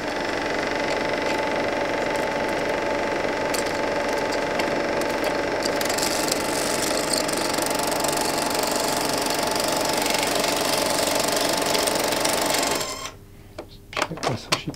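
A Bolex M8 8mm film projector runs with a steady mechanical whir and rapid clatter, loud and close, then its motor cuts out near the end, leaving a few brief clicks and handling knocks.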